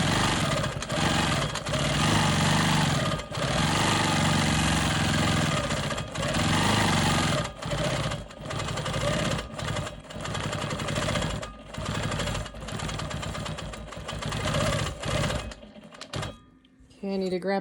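A Quilt Maker Pro 20 quilting machine stitching in the ditch and swirls, a loud, close, rapid needle rattle running continuously with brief pauses before it stops near the end.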